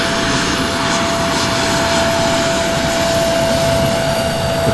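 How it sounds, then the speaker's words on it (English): A CRJ regional jet taxis at Louisville's SDF airport, its engines producing a loud, steady roar with a thin constant whine held throughout, close by and uninterrupted. "CRJ taxing in front of us here, taxing."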